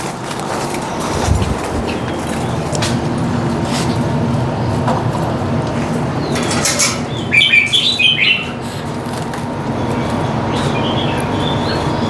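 Red-whiskered bulbuls in a cage after bathing, flapping wings and fluttering against the cage over a continuous loud rumbling background, with a brief burst of bird chirping midway.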